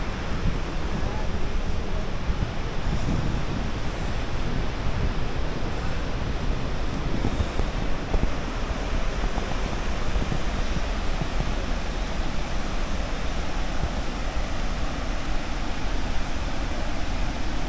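The Zambezi waterfall roars as a dense, unbroken thunder of falling water, loud and steady throughout, with wind buffeting close by.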